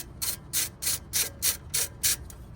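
Ratchet wrench loosening a 10 mm bolt behind the hub of a Tesla Model 3 during a wheel speed sensor repair; about eight quick, even rasping bursts of clicks, close and fairly loud, with no talking.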